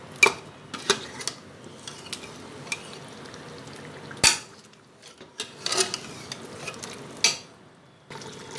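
Beef frying in a pan with ginger and garlic for nihari: a steady, soft sizzle broken by repeated scraping clinks of a utensil stirring against the pan, close and fairly quiet, with no voices.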